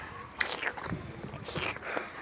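A few short cat meows sound at moderate distance, spread across a couple of seconds against faint background noise, in the Çukurbostan area of Fatih, Istanbul.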